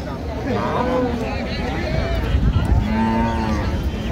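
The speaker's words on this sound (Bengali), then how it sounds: "গাভী বাছুর আমরা দেখছিলাম এখানে" Dairy cows and calves of an improved breed low and bellow repeatedly at Raniganj cattle market in Dinajpur, with moos overlapping a busy background of crowd chatter and nearby talk.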